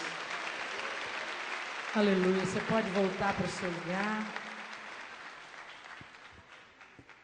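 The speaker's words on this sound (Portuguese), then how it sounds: "Você pode aplaudir ao Senhor e dar glória a Deus" A church congregation at an evening service claps in a broad, steady wash of applause that rises and fades, while someone speaks and sings over it through the room.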